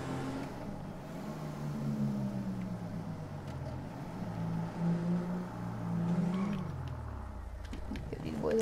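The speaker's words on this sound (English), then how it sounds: "I am just using one of these sheriff cruisers." A sheriff cruiser in GTA 5 drives with a steady engine drone whose pitch rises and falls through several gear shifts as it moves.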